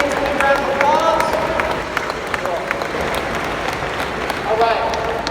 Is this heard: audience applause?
yes